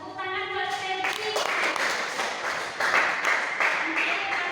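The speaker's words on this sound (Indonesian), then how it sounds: "Tepuk tangan buat Stevi." Students in a classroom applaud a classmate, with a dense, fairly close burst of clapping that starts after a short spoken phrase and continues steadily to the end.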